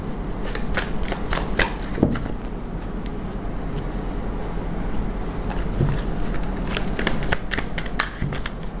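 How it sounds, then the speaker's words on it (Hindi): Tarot cards being shuffled by hand, a close, continuous papery riffle and flutter with soft taps, steady and fairly loud with no talking. "शफल कर लेते हैं दोनों ही तरफ एक एक बार।"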